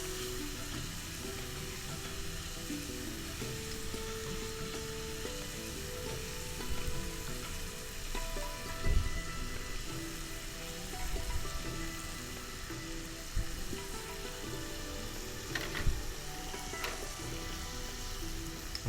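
Chili powder and spices sizzle as they fry in a pan, a steady moderate crackle with a few louder stirring knocks, continuous and without talk.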